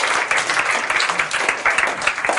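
A classroom audience claps after a design class presentation, a short burst of brisk, close clapping filling the whole moment.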